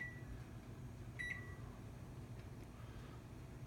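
Kitchen oven timer being set while a cast iron skillet seasons, giving a few short electronic beeps, one clear tone near the middle and fainter ones around it, over steady low room hum.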